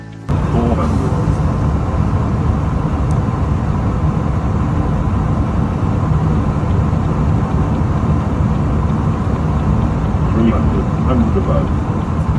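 An Airbus A340-600 lands on runway 22 left at New York JFK, heard as a loud, steady roar of engines and airflow that stays constant throughout, with no break or change.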